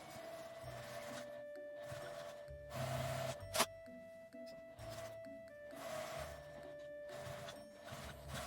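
Domestic sewing machine stitching the side seams of a small patchwork fabric pouch with a 1 cm seam allowance, a quiet mechanical whirring running in several bursts with brief pauses between them.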